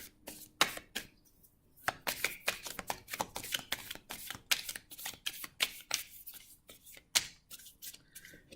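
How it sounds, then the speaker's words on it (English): A deck of tarot cards is shuffled by hand at close range, producing rapid papery riffles and crisp slaps in uneven bursts across the whole stretch, with no talking. "Do a little bit more shuffling here."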